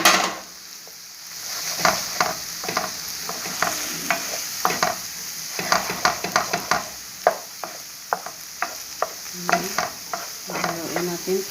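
Chicken cubes are stirred in a frying pan for chicken fried rice, with repeated metallic clinks and scrapes of a utensil in an irregular rhythm over a soft, steady sizzle close by.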